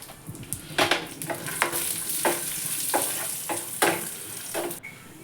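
Almonds and cashews fry in ghee for shavige payasa, a soft steady sizzle broken by regular clinks and scrapes of a spoon stirring the pan, close by with no talking.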